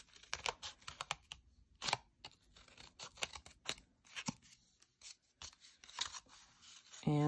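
Scissors snipping paper while trimming a cut-out animal skull shape for a Georgia O'Keeffe–inspired craft, a run of short crisp cuts at close range with brief gaps between them, no talking.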